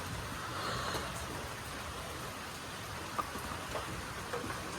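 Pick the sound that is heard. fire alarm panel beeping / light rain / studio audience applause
light rain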